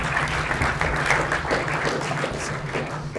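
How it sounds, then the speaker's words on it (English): An audience at a mental maths magic show gives another round of applause for brave volunteers on stage, an even, moderate patter of clapping that carries on steadily. "One more round of applause for our brave volunteers."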